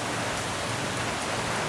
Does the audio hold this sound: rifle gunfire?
no